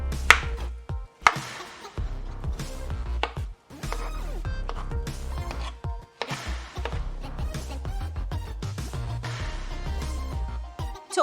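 A knife chops repeatedly through firm plantains on a cutting board, close-up taps and slices in bursts with short pauses between runs.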